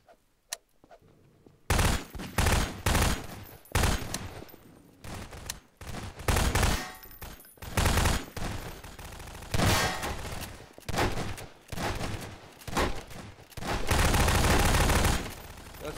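Bursts of rapid video game gunfire ring out in repeated loud volleys, separated by short pauses, with a long sustained burst near the end and no talk over it.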